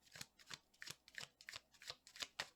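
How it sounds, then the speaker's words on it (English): Tarot cards being shuffled by hand in a steady rhythm of about ten crisp riffling bursts, close and fairly quiet, with no voices. "I don't know why I'm shuffling still."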